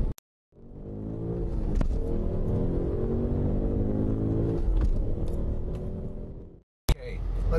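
A BMW M5 engine accelerates hard up through the gears, a sustained loud rising roar broken by brief shift dips, ending with a sudden cutoff and a short sharp transient.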